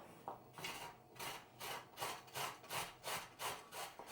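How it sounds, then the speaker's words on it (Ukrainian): Rhythmic rasping strokes of a carrot being grated on a coarse grater, about eight steady back-and-forth scrapes, close and moderately loud. "моркву тру на ось такій крупній терці."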